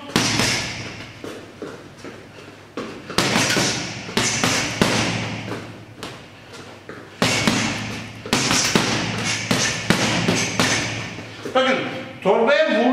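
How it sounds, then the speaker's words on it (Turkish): Punches strike a boxing punching bag in bursts of dull thuds and slaps, some in quick runs and others spaced apart, close and fairly loud, with a voice talking in the background. "Bakın torbaya vurdum."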